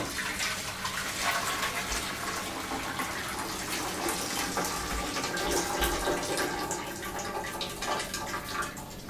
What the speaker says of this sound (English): Time to take them off the heat. Drain them again.